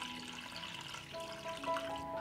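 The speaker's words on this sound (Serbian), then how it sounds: "I sipam vodu u šerpu do visine poklopca." Water pours into a cooking pot holding a cloth and jars, a quiet steady splash and trickle whose tone rises slightly as the pot fills.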